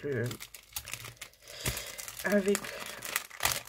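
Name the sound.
textured green paper being handled and crinkled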